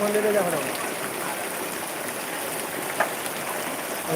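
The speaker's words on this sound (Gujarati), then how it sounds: "મિત્રો આ છે ચોમાસું અને લાઈવ વરસાદ જોઈ શકો છો તમે અમારા ગામનો વરસાદ" Monsoon rain falls steadily on a village in Surendranagar, Dasada, as a continuous broad hiss of drops on surfaces, even and close, with one brief knock partway through.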